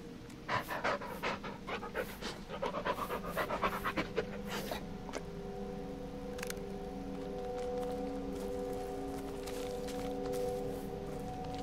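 A dog pants rapidly and steadily up close, with brief movement clicks and a faint whimper, in a quiet indoor setting.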